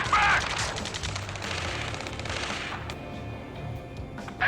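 Dense gunfire from soldiers in a video game battle, a continuous rattling barrage of shots and explosions layered together, loud and close for the whole span.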